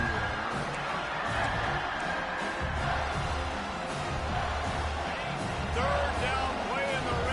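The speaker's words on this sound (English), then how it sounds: "this crowd is at fever pitch" Stadium crowd in the NCAA College Football 26 video game roars steadily throughout, a dense sustained cheer that swells near the end, with a play-by-play commentator talking over it.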